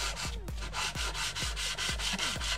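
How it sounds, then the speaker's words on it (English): Sandpaper scrubs old corrosion off a Honda Accord V6 oil pan by hand with light pressure, giving about ten quick, evenly spaced back-and-forth strokes, close and steady with no talking. "I'm not putting any pressure on it, I'm just letting the sandpaper do the work."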